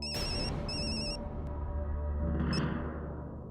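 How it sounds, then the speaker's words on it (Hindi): A phone rings with two short electronic ringtone bursts close by, then a brief click and a fainter chirp as the call is picked up in a quiet room. "दादाजी, पापा का फोन।"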